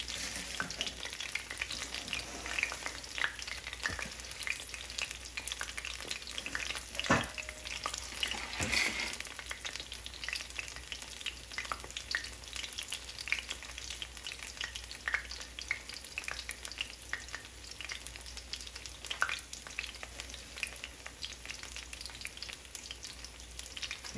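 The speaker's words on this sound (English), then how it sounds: "it's wonderful when you're frying up some vegetables" Steady crackling sizzle of vegetables frying in a pan over lowered heat, continuous and close, with a few sharper pops and stirring clatters along the way.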